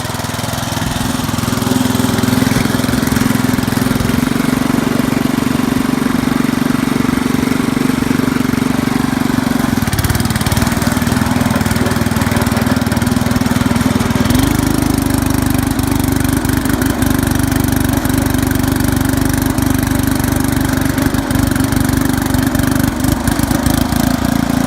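Snowblower engine swapped onto a Ford Montgomery Ward riding lawn mower idles loudly and steadily nearby, a constant droning hum with a brief throttle shift partway through.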